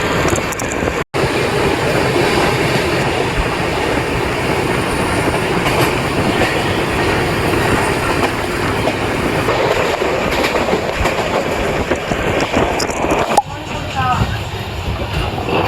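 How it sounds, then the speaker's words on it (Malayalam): The Sabari Express pulls into Aluva station, platform one, with a loud, continuous rumble and clattering wheels close by, and a voice talking over the noise. "അങ്ങനെ നമ്മൾ 12:44 ആലുവ സ്റ്റേഷനിൽ നമ്മുടെ ശബരി എത്തിയേക്കാണ്."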